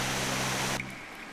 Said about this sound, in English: Now interact with the waterfall again to enter this cave behind the waterfall.